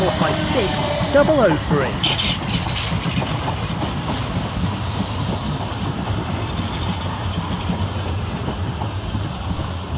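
South Western Railway class 455 and 456 electric units roll through Clapham Junction, a loud close rumble with clattering wheels and a brief squeal early on, continuing steadily throughout.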